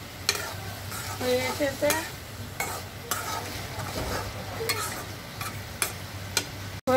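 Raw tomato bhaji frying in a pan and being stirred, a soft continuous sizzle punctuated by repeated sharp scraping strokes of a spatula at irregular intervals; a voice speaks briefly in between.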